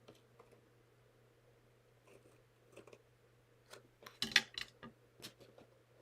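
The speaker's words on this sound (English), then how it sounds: "I'm just going to snip that off. So I've got my scissors at the one corner." Scissors snipping the corner off a paper envelope for a handmade card, a few quiet crisp cuts with a brief louder cluster of snips near the end, close and alone in a quiet room.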